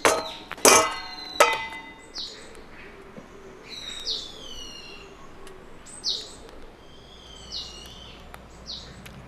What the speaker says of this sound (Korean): 새소리가 우렁차요, 우렁차.